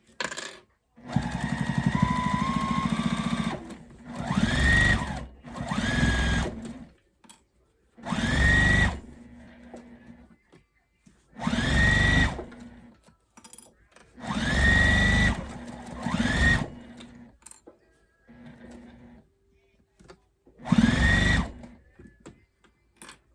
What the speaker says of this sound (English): I'm going to stitch a 1/4 inch around all the way around